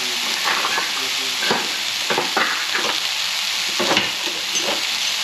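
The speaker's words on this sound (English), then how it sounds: "we're going to continue to cook this dish until the garlic becomes fragrant" Minced garlic frying in a pan alongside chicken and tofu, a loud close sizzle with repeated stirring scrapes and clatters throughout.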